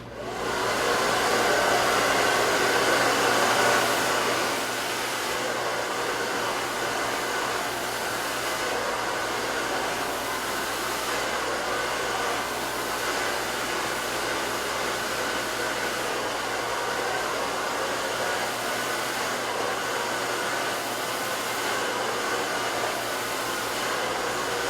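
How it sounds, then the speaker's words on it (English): A hair dryer blows steadily while drying a woman's hair, a loud, constant whooshing roar that runs unbroken for the whole stretch, slightly stronger at first and with no talking. "we're actually going to do a blow dry here"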